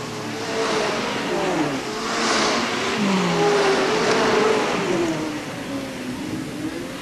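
Sportsman race cars roar around the Hales Corners Speedway track, engines revving and swelling as they pass, with an announcer calling the race over the noise throughout.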